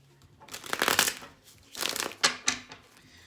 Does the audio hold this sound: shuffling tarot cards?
yes